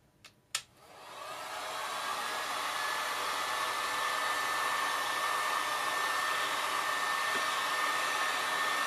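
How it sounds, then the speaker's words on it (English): A heat gun blows hot air onto a circuit board, starting with a couple of clicks, then a steady whooshing hiss that rises quickly and holds evenly and close up for several seconds. "We're going to heat the board up with the heat gun."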